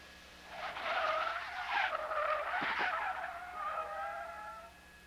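Car tires squeal and skid under hard braking, a loud, wavering screech that rises and falls over about four seconds before fading out.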